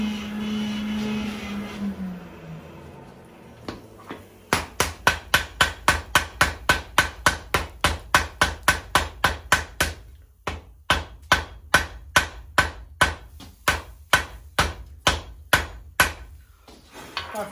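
Hammer blows ring out one after another, loud and close, as a gun barrel is forge welded at welding heat. The strikes come in a steady rhythm with one short pause partway through, after a low roar from the forge.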